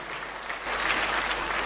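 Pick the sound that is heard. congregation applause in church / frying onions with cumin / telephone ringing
congregation applause in church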